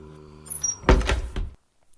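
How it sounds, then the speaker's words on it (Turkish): A door in a Minecraft doors mod swings open after being picked with a lockpick, giving one loud, close creaking knock with a short clatter that stops abruptly, followed by near silence. "Maymucukla maymucukla da açılıyor bu arada bakın."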